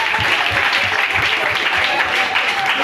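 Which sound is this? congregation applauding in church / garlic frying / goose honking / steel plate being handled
congregation applauding in church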